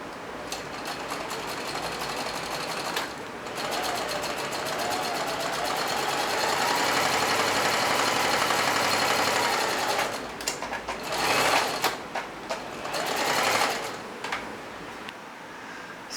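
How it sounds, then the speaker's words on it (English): A domestic sewing machine stitches fabric in steady rapid bursts with brief pauses and stops, close and fairly loud, no voice present. "lower the needle, start sewing, back tack, continue sewing"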